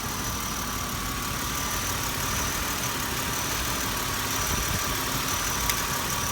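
A car engine idles steadily, a constant rumbling drone with no revving, close by and without voices.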